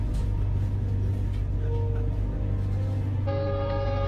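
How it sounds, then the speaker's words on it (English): A train horn blares as a warning to a donkey on the tracks, a loud, steady harmonic blast breaking out near the end over the heavy, continuous rumble of the passing train. "Even though the train whistle echoed everywhere and everyone could hear it"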